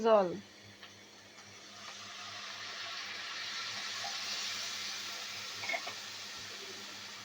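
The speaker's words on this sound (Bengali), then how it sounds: "জল দিয়ে নেড়ে চেড়ে দেবো" Water poured into a pan of fried spices and onions for a hilsa fish curry: a brief voice at the start, then a hissing, bubbling rush that swells and stays steady, with light clatter near the end.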